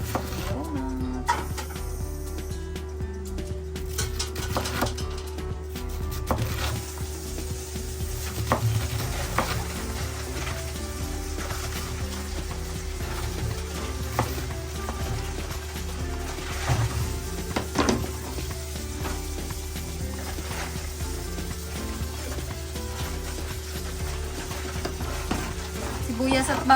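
Donuts frying in hot oil with a steady, dense sizzle that runs the whole time at an even level, with faint voices in the background.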